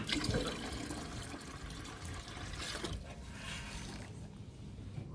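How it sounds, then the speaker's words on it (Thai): Water leaking from a cracked plastic watering can, a steady splashing and trickling flow that is loudest at first and then thins out toward the end, fairly close, with no voices. "เอ้า แตกอีกแล้ว น้ำหยดเลย"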